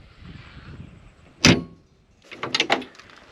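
A tractor cab door lacking its gas strut is swung open: a sharp metallic clunk of the latch, a quiet pause, then a cluster of rattling knocks and clanks as the heavy door moves, with no one speaking.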